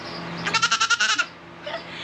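A goat bleats once up close, a loud wavering cry with a rapid vibrato, followed by a softer short call.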